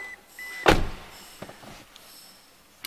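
A car door shuts once with a single sharp, solid thud, followed by faint small clicks inside a quiet vehicle during a lambda sensor test.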